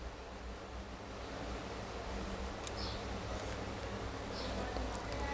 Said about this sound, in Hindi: फिर से एक बार हम मिक्सी में चला लेंगे